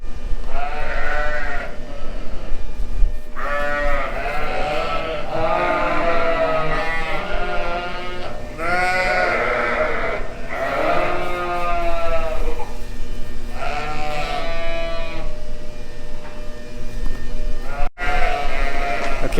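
Sheep bleat repeatedly in a livestock barn during bitter cold of about -33°C, the loud, wavering calls overlapping almost continuously and close by, with animal movement audible underneath.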